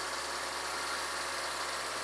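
A steady, even car engine hum held at 2000 rpm during an injection tune-up, with a constant rumble and hiss, fairly close, no voices.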